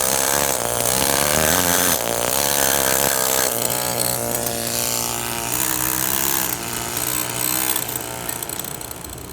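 A power saw cuts a stop cut into marble stone while reproducing a carved marble cross, a loud continuous grinding whine with a rough, gritty edge that holds steady and close for the whole stretch, no voices.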